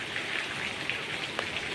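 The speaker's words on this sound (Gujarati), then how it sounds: "ફૂલ વરસાદ ચાલુ થઈ ગયો" Heavy rain pours down steadily on surfaces during a record-breaking downpour in Jamnagar, a dense continuous hiss with occasional louder drop impacts, close and loud with no talk.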